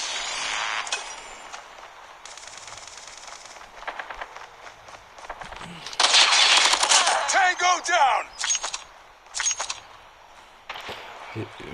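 M4 rifle fire in Call of Duty Mobile, with rapid bursts of shots alongside footsteps and clinking gear, over a busy game mix with someone talking.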